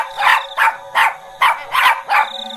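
A dog barks six times in a quick, evenly spaced series, loud and close, with nothing else heard.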